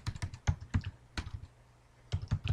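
A username being typed on a computer keyboard, with short bursts of close, crisp keystrokes in uneven rhythm and a brief pause before a final quick run of taps.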